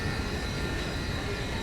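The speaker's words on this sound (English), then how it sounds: "It looks like there's another train right behind this one." A Toronto subway train rumbles steadily through a station, a dense, continuous roar of wheels and cars filling the platform with no speech.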